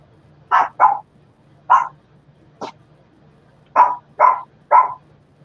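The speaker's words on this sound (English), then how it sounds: "Why are you barking, Bella?" A dog barks in short bursts, two quick barks, a single one, a yip, then three more, fairly close against a quiet background.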